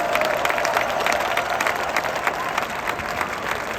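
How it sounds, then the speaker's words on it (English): An audience at a large conference event breaks into loud, sustained applause and clapping, a dense crowd sound with some cheering mixed in that carries on without a break. "Let's clap that shit up."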